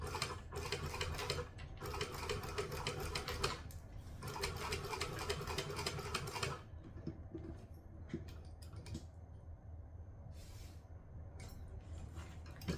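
Sewing machine stitching a leather-style project, a dense rapid mechanical rattle running steadily for several seconds, then stopping and giving way to quieter intermittent ticks and handling clicks.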